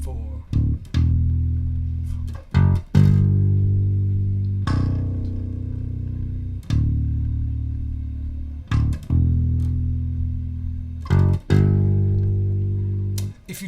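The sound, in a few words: bass guitar playing the bridge line of a song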